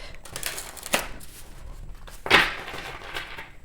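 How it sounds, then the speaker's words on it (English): Tarot cards being shuffled by hand, two quick papery riffles spaced about a second apart, close and fairly soft with no talking. "I'm going to shuffle these again."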